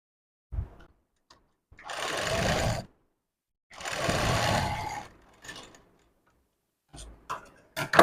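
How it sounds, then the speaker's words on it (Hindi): A sewing machine stitches a piping strip onto a blouse neckline in two steady whirring runs of about a second each, separated by pauses and followed by small handling clicks, close and clear with no talk. "मार्जिन रखते हुए इस पर एक सीधी सिलाई लगानी है"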